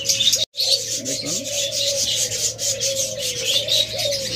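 Brown and white doves kept in a breeding setup coo softly, a low, sustained cooing line over a faint background rustle, continuing steadily after a brief dropout near the start.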